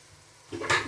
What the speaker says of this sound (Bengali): যেহেতু তেলের মধ্যে মশলাটা দিলাম